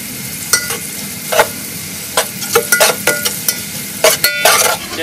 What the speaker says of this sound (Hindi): तो प्याज को जो है आपको डार्क ब्राउन करना है।